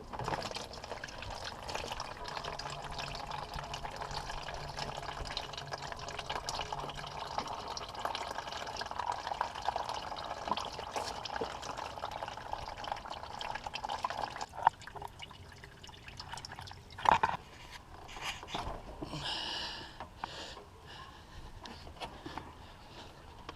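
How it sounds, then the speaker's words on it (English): Coolant draining from a Toyota AE86 radiator: a continuous trickle and splatter of liquid pouring out at close range, thinning toward the end, with a couple of metallic clanks partway through. "I'm going to remove the radiator and drain the coolant first before I do that"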